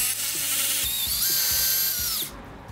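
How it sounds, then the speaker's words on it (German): A power drill bores a row of holes into a door frame while a front door is being installed, running steadily with a rising whine and pitch steps before cutting off near the end. "Dann bohren wir jetzt erst hier die ganze Reihe."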